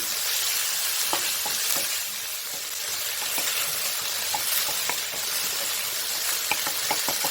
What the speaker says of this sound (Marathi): मेथी छान फ्राय होऊ द्यायची आहे